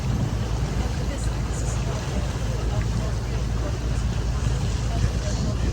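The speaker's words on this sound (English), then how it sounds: "Of course, not using the sails itself, just using the engine." A sailing ship's engine drones steadily while the vessel motors without sails through Stockholm waters, a constant low rumble mixed with wind and water noise and faint voices in the background.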